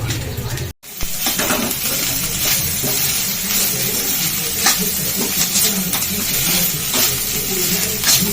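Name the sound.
rice being added and stirred into the pan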